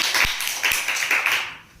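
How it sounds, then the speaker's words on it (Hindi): Audience clapping at a science quiz competition show, a short burst of applause with a few sharper claps standing out, steady and fairly loud throughout before tapering at the end. "एक बार जोरदार ताली बजाइए।"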